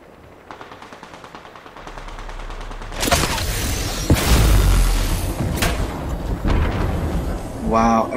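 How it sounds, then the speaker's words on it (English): Gunfire in Apex Legends: rapid automatic bursts and heavy booming impacts building into sustained, loud multi-weapon shooting, with people talking over the action. "everybody's shooting it"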